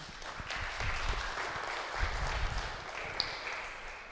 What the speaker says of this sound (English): And again, applause, please.